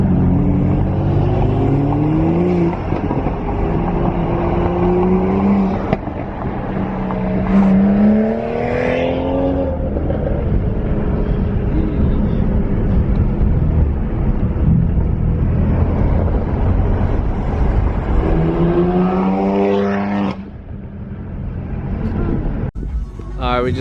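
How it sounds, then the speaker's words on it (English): BMW M4 and M235 cars drive together in a loud group, their engines droning and revving with rising and falling pitch sweeps over a constant roar; a voice talks over the noise at times. "Caleb's M4 sounds sick. Danny's M235 sounds super loud as well"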